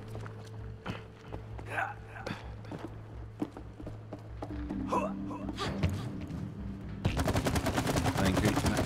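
Gunfire in the co-op video game It Takes Two, a burst of rapid repeated shots near the end following scattered clicks and impacts over steady game music, with a voice talking throughout.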